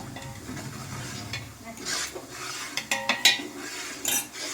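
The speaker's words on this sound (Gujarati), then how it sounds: "હવે આને આપણે બધું બરોબર મિક્સ કરી લેવાનું છે." Wheat khichdo being stirred and mixed in a pot, a spoon scraping and clinking against the metal in irregular strokes, close and clear, with no talk.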